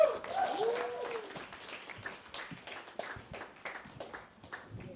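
A comedy club crowd at Common House in Charlottesville claps for a stand-up comedian, dense applause that is loudest at the start and thins out, with a voice speaking over it.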